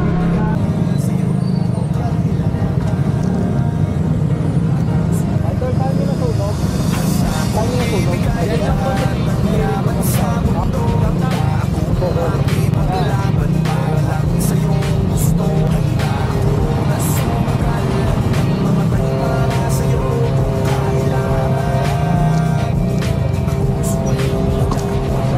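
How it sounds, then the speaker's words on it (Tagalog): Cars sit in a traffic jam on a city street near a fire, a steady dense roar of idling and creeping engines with distant horns and a murmur of voices running through it. "Grabe, nandito yung traffic, oh."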